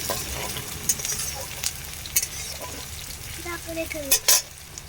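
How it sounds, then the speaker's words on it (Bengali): Onions fry in a pan with a soft continuous sizzle, broken by several sharp scrapes and clinks as a spatula stirs against the metal, close by with no voices. "পেঁয়াজটা হালকা করে ভাজা হয়ে গেছে আর একটু ভেজে নেব"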